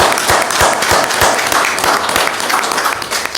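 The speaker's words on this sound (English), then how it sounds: "Round of applause." Audience at a council meeting applauding, a close, fairly loud patter of clapping with a few heavier, rhythmic claps standing out at regular intervals, tapering slightly toward the end.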